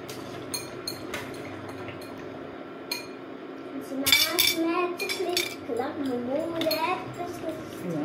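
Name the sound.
stirring food in a pot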